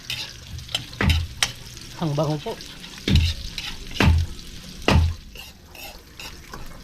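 Ingredients sautéing in a hot pan with a soft continuous sizzle, punctuated by several sharp scraping stirs at a loose rhythm, close by, with a short spoken remark in the middle.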